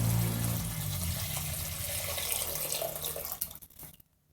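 Steady rushing water of a river, used as a story sound effect, flows continuously at moderate loudness and then cuts off abruptly near the end.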